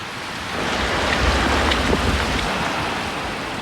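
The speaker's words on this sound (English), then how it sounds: "associated fronts brought torrential rain to Shizuoka Prefecture" Torrential typhoon rain in Shizuoka Prefecture, Japan, in 1990 pours down as a loud, dense, continuous roar with a deep rumbling undertone.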